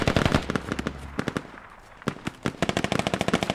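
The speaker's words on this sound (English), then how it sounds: "That's small arms on the hill." Small-arms gunfire in a military squad video game: dense, rapid bursts of automatic fire, close and loud, thin out into scattered shots and then build back into sustained volleys.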